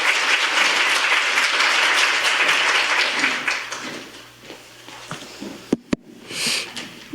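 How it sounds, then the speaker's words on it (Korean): An audience at a Korean National Assembly policy forum applauds with dense, continuous clapping that fades after about four seconds, leaving a few scattered claps and brief rustling. "큰 박수로 맞이해 주시기 바랍니다"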